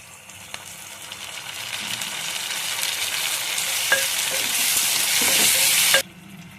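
Onion pieces sizzle steadily in a pan as tomato pieces are added, the frying hiss growing louder over several seconds with occasional spoon stirs and clinks, then cutting off abruptly near the end.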